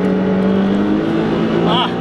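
A twin-turbo Nissan 300ZX accelerates onto a highway, its engine giving a loud, steady drone with a rising pitch and continuous road and wind noise heard from inside the car.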